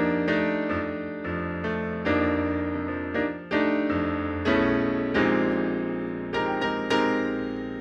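Piano chords with suspended-fourth reharmonization in a blues setting, struck one after another at a moderate pace, each ringing and decaying before the next, played alone with no voices.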